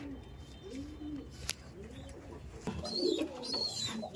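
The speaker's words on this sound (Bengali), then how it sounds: "এটা ওখানকার ফেমাস পায়রা" Andhra-breed tournament racing pigeons coo in a loft, giving soft, repeated throaty calls close by with a few wing flutters and light rustling.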